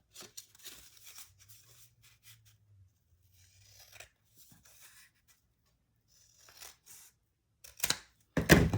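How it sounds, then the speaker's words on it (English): Scissors cut a folded paper triangle for a junk journal corner pocket, giving faint, scattered snips and paper rustles, then a louder crinkling burst at the end. "So now you're going to cut your triangle on the fold."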